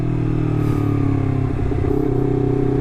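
A Honda CBR250RR fitted with a WRX GP3 K2 exhaust runs close by with a loud, steady engine drone and a slight rise and fall in revs, heard alone.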